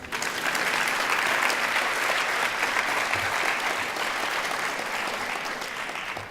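An audience applauds steadily for a few seconds, a dense, even wash of many hands clapping close by with no voices over it.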